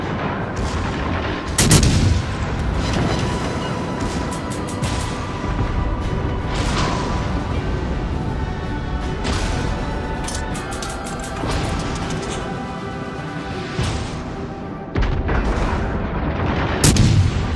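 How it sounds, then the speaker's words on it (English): Naval combat in the video game Flat Top as a battleship is destroyed, with a dense barrage of loud artillery blasts and booming explosions rolling continuously, sharp impacts punctuating a thick rumbling wash throughout. "Battleship destroyed."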